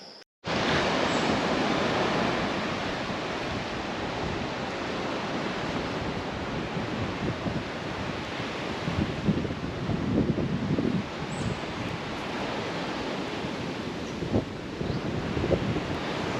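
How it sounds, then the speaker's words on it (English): Wind and surf at Lamai Beach, a steady loud roar of breaking waves and gusting wind buffeting the microphone, continuous throughout with occasional surges. "I'm at Lamai Beach."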